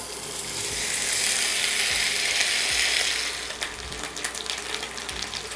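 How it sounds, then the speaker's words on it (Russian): Potatoes frying in a well-heated skillet give a dense, steady sizzling hiss that is loud at first and then eases, with scattered crackles and light clatter. "Даем сковородке хорошенько разогреться, и после этого отправляем туда картошку."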